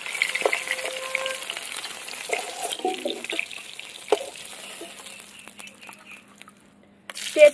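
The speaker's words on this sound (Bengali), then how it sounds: "তেজপাতা আর গোটা গরম মশলা ফোড়ন দিয়ে দেবো, পেঁয়াজ দিয়ে দেবো, লবণ।" Onions, bay leaf and whole garam masala spices frying in oil after fish was fried, a steady close sizzle with stirring and scraping, fading toward the end before a brief louder clatter.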